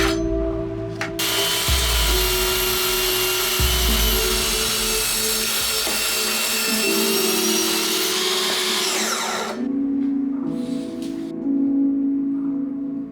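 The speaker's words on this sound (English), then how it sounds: "Next I cut the slab to its final length." A power saw rips through a wood slab to cut it to length: a loud, sustained whining buzz for about eight seconds with a shifting pitch as the blade loads, then spins down, followed by brief quieter tool noise.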